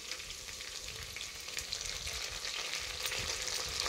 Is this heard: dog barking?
no